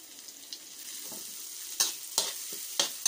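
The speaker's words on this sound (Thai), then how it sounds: "เราก็จะผัดให้หอม" Chili, garlic and a little black pepper stir-fried in a pan for a basil stir-fry, with a soft steady sizzle broken by several sharp spatula scrapes and clacks in the second half, no talking.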